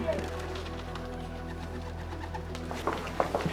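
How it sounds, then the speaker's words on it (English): Pigeons coo softly on a Beijing rooftop amid a low steady hum, with a few brief sharper calls near the end. "This got to be where all the birds are flying to."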